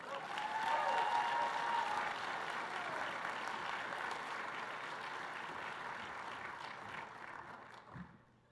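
Banquet audience at a hall of fame awards night applauding steadily, a dense wash of many hands clapping that holds loud for several seconds, then thins and tapers off near the end.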